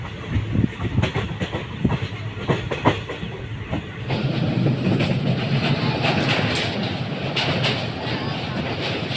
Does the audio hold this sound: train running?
yes